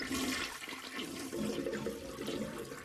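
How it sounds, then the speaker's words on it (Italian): A cartoon toilet flushes with a steady rushing, gurgling swirl of water that runs the whole time, fairly close and with no voices over it. "E lo sciacquone funziona in questo modo"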